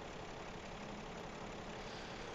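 A truck engine idles in the video game Farming Simulator 17; a steady, unbroken low drone holds at constant level for the whole short span, alone without talk.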